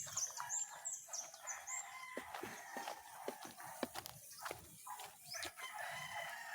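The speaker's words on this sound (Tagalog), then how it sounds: "Sa ating may sisiw na inahin." A hen with her chicks in a small backyard coop clucks and cheeps, with a rooster crowing and bursts of wing flapping, lively and close, with no talk.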